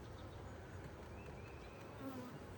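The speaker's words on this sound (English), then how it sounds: "there is a lot of bees in this hive. This is a very, very strong colony." A steady, dense buzzing of many bees, close and continuous throughout with no voices.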